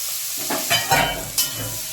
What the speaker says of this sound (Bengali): এবার পেঁয়াজগুলো ছেড়ে দেবো